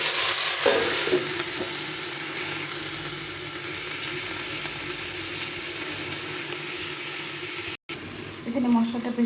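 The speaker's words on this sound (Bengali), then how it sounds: "দিয়ে একটু ভালো করে নেড়ে চেড়ে দেবো" Jackfruit seed and taro curry sizzles in a pan as it is stirred, a continuous frying hiss with scraping strokes, while a person speaks over parts of it.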